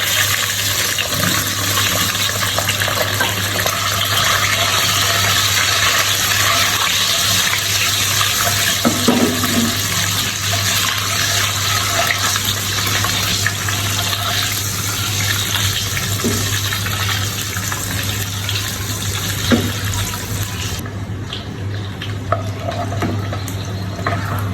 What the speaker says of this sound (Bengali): তেলটা গরম হয়ে গেলে এক এক করে সবগুলো ডিম আমি তেলের মধ্যে ছেড়ে দিচ্ছি।